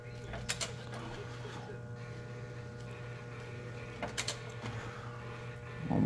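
Ratchet clicks from a wrench turning over a Detroit Diesel 60 Series engine during valve adjustment, a few short bursts of clicking with a low steady hum underneath and a louder clunk at the end.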